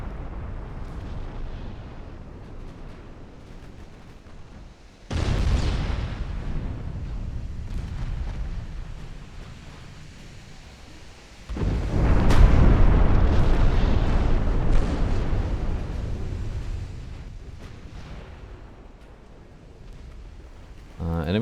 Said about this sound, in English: Enemy torpedoes just hit a wreck.